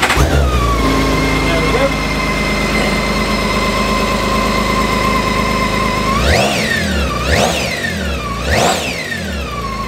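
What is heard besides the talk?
2011 BMW K1600GT SE motorcycle engine starting up and idling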